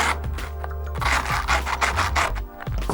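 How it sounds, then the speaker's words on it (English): The edge of a skate tool scrapes along skateboard grip tape in repeated rough, gritty strokes, close and fairly loud. "scoring along the grip tape so that you can see the actual shape of your board"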